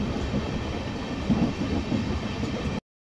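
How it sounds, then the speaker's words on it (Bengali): Steady low rumble and rattle of a moving LHB train carriage entering Shaktigarh station, continuous and fairly loud, ending abruptly. "ট্রেন ঢুকছে শক্তিগড় স্টেশন"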